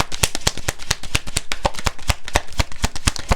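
Oracle cards are shuffled up close in a quick, crisp run of sharp slaps and riffles, evenly spaced and loud, with no talking.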